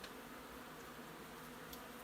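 A large colony of honey bees lodged inside a house wall hums in a steady, dense buzz, close and continuous, with no voices over it.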